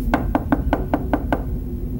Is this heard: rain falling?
no